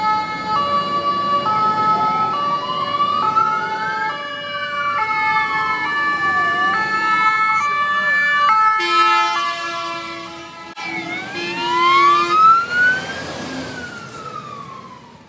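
Two Warsaw fire engines, a GBA-Pr and a GCBA, pull out of the station with sirens wailing and swooping over one another, loud and close, with engine revving underneath and no talk.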